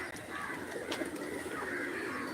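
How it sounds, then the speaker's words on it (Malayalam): Pigeons coo softly in the background under a steady wash of outdoor noise, with no speech. "അപ്പം ജസ്റ്റ് കുറച്ച് പ്രാവുകളെ നോക്കാം"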